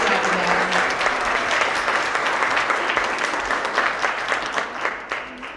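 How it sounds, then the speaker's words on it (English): A school audience at a 6th to 8th grade winter award assembly applauds its Roaring Readers students, many hands clapping in a thick, continuous wash that holds steady before gradually thinning toward the end. "Let's give a round of applause for all of our Roaring Readers."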